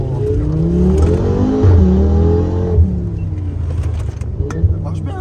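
A tuned stage 2 Audi RS3 8P engine drones and revs nearby with a rising, throaty roar that swells and eases. People talk over the engine throughout.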